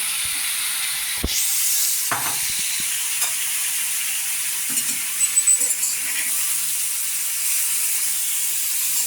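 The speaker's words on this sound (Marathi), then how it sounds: "आणि मग हा सुरण चिरलेला आपण ह्याच्यात टाकला।" Chopped elephant foot yam stir-frying in a pan for a traditional fasting vegetable dish, with a steady broad sizzle broken by a few sharp scrapes and spatula knocks, no talking.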